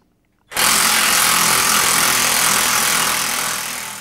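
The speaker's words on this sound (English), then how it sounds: "Unlock the clamp on the tool and decompress the spring." A spring compressor tool decompresses a shock absorber spring during a shock absorber replacement, giving a loud, steady power-tool whir that starts abruptly after a brief silence and runs continuously, easing slightly toward the end, with no talk.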